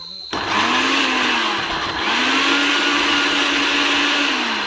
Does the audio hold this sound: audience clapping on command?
no